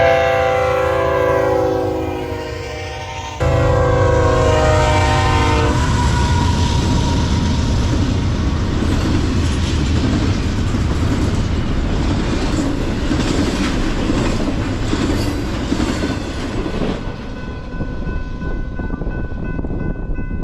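A westbound BNSF intermodal freight train passes close by, opening with a loud horn blast, then a sustained heavy rumble and clatter of wagons that eases slightly toward the end.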